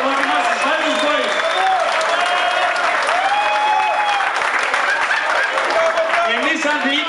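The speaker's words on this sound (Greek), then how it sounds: "Ένα χειροκρότημα, ένα ξανό χειροκρότημα στους Βάλτον Boys." Loud, continuous applause from the crowd at an annual club dance, with dense clapping throughout while a voice speaks over it through a sound system.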